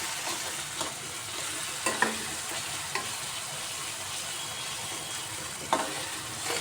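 Cooked tomatoes stirred in a frying pan for a soybean curry, a steady sizzle with a few sharp spoon scrapes and taps against the pan at irregular intervals.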